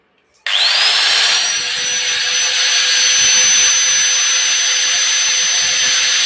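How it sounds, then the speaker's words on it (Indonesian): A 550-watt angle grinder runs on a 450 W household electricity supply, switching on after a short quiet moment and then holding a loud, steady high-pitched whine close by. "Ini akan saya pakai gerinda sama itu 550 watt."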